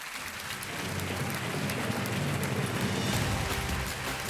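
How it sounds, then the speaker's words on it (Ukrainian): Dense, steady applause fills the space at an awards ceremony, a broad wash of clapping from a large crowd with no voices over it. "Вітаємо оплесками."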